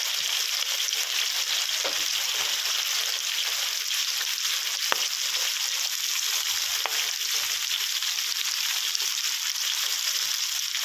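Straw mushrooms stir-fried with oyster sauce in a pan, giving a loud, continuous close sizzle with occasional stirring scrapes and no talking.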